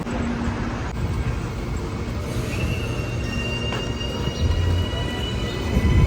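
A commuter train pulls out of Henderson station in Auckland with a steady, fairly distant rolling rumble, faint metallic wheel squeals threading through it and a hint of road traffic behind.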